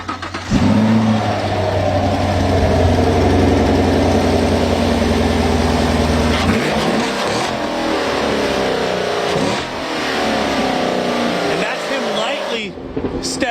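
A Chevrolet Camaro engine cranks and fires up, then settles into a loud, rumbling idle and surges with several throttle revs, heard up close outdoors with people talking nearby.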